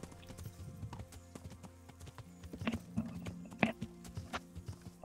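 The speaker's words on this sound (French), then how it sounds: "Allez, on va essayer de galoper" Horse hooves clop in a quick galloping rhythm in the medieval video game Kingdom Come: Deliverance, faint and close, with soft game ambience and brief background voice underneath.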